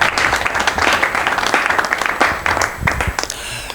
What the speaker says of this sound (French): à qui nous demandons au public de pouvoir applaudir très fort lorsqu'il fait son entrée